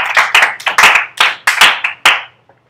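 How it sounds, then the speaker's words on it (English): A short burst of hand clapping from a small group in a classroom, about eight uneven claps over two seconds, then it stops. "let's give Keyshawn a round of applause"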